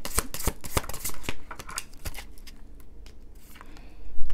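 Tarot cards being shuffled and drawn from the deck during a Pisces reading, giving a run of sharp, close flicks and riffling snaps, dense at first and thinning into lighter, scattered card taps, with no talking.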